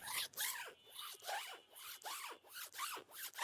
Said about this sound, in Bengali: চেনটা একটু খেয়াল করুন খুবই স্মুথ চেন